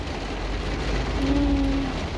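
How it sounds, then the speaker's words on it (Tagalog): Steady, dense heavy rain fills the scene in Brazil, a constant hiss heard from inside a car, with a brief faint tone in the middle. "Malakas ang ulan"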